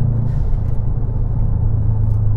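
Subaru WRX STI 2018 engine under hard acceleration, a steady loud low rumble with droning engine tone heard from inside the car, no talk.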